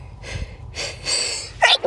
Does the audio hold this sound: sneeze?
yes